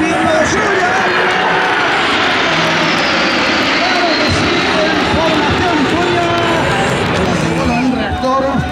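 Patrulla Águila jets flying in wedge formation at the Festa al Cel air show at Lleida-Alguaire airport, a loud, sustained roar of jet engines that swells and rushes overhead, with a commentator talking over it.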